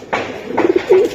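Pigeons coo in a close, low murmuring burst, with a silver hammer hen and a black-necked Damascene pigeon among the birds; two or three soft cooing phrases run on briefly with no talk.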